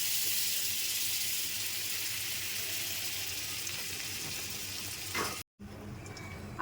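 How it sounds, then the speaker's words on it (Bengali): Butter and white oil sizzle steadily in a kadai, close and even, with a short dropout near the end before the frying hiss resumes. "কড়াইতে বাটার দিয়ে দিচ্ছি আর একটু সাদা তেল দিয়ে দেবো।"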